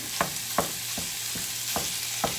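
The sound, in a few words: 80-20 ground beef frying in a pan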